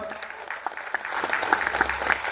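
An audience at a gathering claps together, a short burst of dense, fairly close applause that builds slightly and holds steady through the clip.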